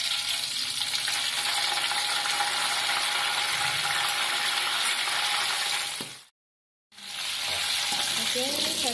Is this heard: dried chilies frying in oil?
yes